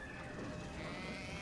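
Sheep bleating in the video game Skylanders: Spyro's Adventure, a faint, steady wavering bleat set in soft continuous background noise, with no talking.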